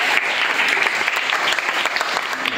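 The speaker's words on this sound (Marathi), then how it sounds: "मयंकसाठी पंतप्रधान टाळ्या वाजवायच्या." An audience at a school quiz contest claps for a contestant, a short, loud burst of many hands clapping at once.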